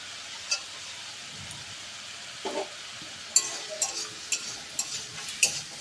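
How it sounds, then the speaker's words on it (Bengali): Fried prawns are dropped one by one into masala in a pan, a soft low sizzle punctuated by a series of light clinks and taps near the end. "মশলাটা এরকম হয়ে গেলে এর মধ্যে একে একে দিয়ে দেব চিংড়ি মাছ ভাজা"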